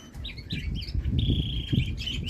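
A mixed cage of parrot, budgerigars, rainbow, Java and Bengal finches, diamond doves and canaries chirps continuously at close range, with overlapping bright tweets and one sustained whistled trill, no voices.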